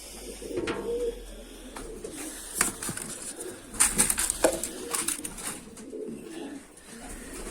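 A carrier pigeon coos softly at a feeder while grain is given, low throaty coos repeating close by amid light rustling and faint background noise, with no speech.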